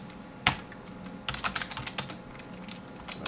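Typing on a computer keyboard: one sharp keystroke followed by a quick cluster of soft, close key clicks, fairly quiet.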